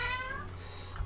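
A house cat lets out a single close, plaintive meow that fades after about half a second, leaving a quiet indoor room with no speech.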